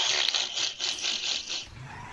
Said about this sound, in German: Die Karre schlittert, du.